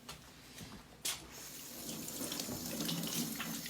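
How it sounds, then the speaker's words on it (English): Hands washed under a running kitchen tap before bread making, a steady close rush of water with a sharp splash near the start, heard alone without talking. "So the first thing we're going to do is wash hands."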